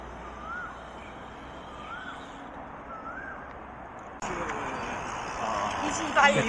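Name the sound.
bird calling, crow-like caw, in Shenzhen Bay Park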